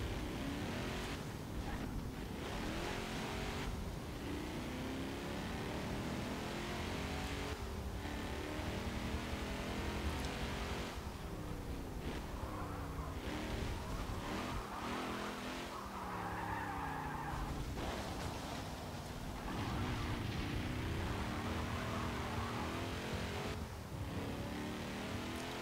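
Racing car engine in Forza Motorsport 7 driven hard, with continuous engine drone, shifting revs and repeated tire skids and squeals through corners, loud and steady throughout with no talking.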